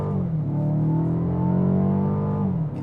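A new Mercedes CLA engine in sport mode holds a steady, throaty rumble, pitch rising slightly then easing off, close and continuous with no talking.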